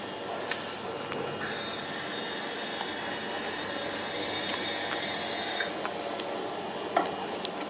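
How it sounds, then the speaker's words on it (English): A Southern Railway train at a London station platform gives a steady, moderately loud rumble with a high metallic whine that holds for a few seconds, plus scattered clicks and clunks and no talking. "This is the Southern Railway train I just came on."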